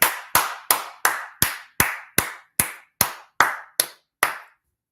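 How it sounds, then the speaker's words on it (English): About a dozen sharp, evenly spaced hand claps ring out over five seconds at a steady rhythm, close and clear, with no talking, from an audience at a brotherhood class. "Clap it up."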